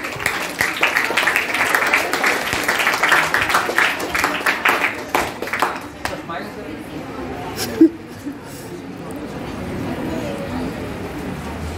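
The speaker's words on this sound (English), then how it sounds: "Give a big round of applause, please." A school farewell audience for a Class X batch claps in a dense burst of applause that fades after several seconds, leaving quieter room sound with voices.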